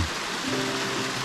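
Light rain sprinkling at Buckeye Falls, a steady broadband hiss of drizzle and falling water, even and continuous with no voices.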